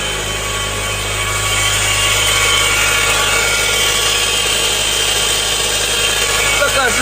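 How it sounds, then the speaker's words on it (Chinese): A Land Rover Discovery Sport (2018) with an Ingenium 2.0T engine at around 100,000 km runs with a failed tensioner pulley bearing in the accessory drive. It produces a loud, steady close-range drone with a whining, grinding hum and no talking. "张紧器轮子轴承散掉了，所发出来的异响"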